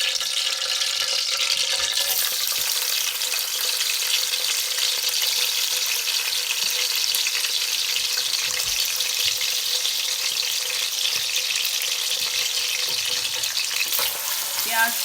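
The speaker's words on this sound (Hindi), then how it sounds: "कुकिंग ऑयल में अब हम प्याज डालेंगे।" Onions fry in hot cooking oil in a pan, a steady, loud sizzle that runs throughout with no break, with faint stirring noises underneath.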